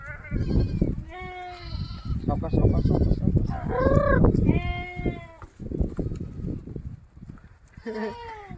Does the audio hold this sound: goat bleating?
yes